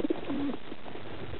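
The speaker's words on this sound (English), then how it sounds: "Why do we never see baby pigeons?" Pigeons coo softly, a couple of low hollow notes at the start over a muffled background hum, near and fairly quiet.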